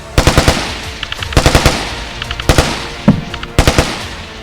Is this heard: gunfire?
yes